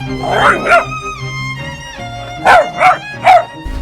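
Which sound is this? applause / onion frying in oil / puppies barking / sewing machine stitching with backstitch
puppies barking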